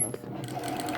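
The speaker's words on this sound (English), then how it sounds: "Then you start from here, and we sew 1/4 inch seams allowance" A sewing machine runs steadily, stitching a quarter-inch seam in the fabric of a face mask. The motor and needle make a continuous mechanical whir that stays close and fairly loud for about a second, with no pauses.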